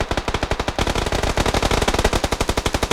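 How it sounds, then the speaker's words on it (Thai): Rapid automatic gunfire from a shootout in the PUBG Lite video game, a fast steady burst of loud repeated shots running through the whole stretch with no voices over it. "ยิงกันอยู่ข้างบนเนี่ยเฮ้ย"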